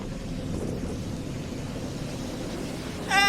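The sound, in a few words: strong wind by the sea at a ferry port in Japan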